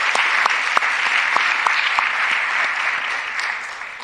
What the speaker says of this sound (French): on pourrait donner une belle main d'applaudissement à la Fédération des maisons d'hébergement pour femmes pour leur travail incroyable